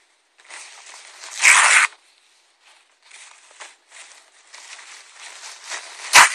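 A plain paper napkin is torn up at close range in a series of short, crisp rips and rustles, with one louder, longer tear early on and a sharp final rip at the end.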